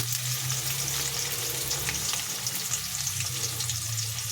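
Chopped capsicum sizzles in a hot pan while bisibele bath is cooked, a steady, close, crackling fry with faint stirring.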